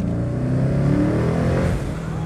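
A 650 HP twin turbo Coyote V8 in a Mustang revs hard and close, a loud, steady, throaty engine roar that holds for the whole moment with only a slight dip near the end.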